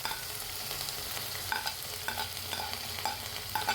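Finely chopped onion is stirred and sautéed in a pan for pasta, with a spoon scraping and tapping in a steady rhythm over a light sizzle and no talking.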